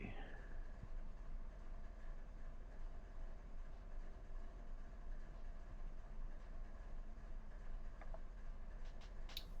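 BNSF 7803 hauls the Q-LACNWH6 freight from LA Hobart Yard toward Chicago at night, a steady low rumble of rolling freight cars with occasional faint clicks and squeals, continuous and fairly quiet, with no voices.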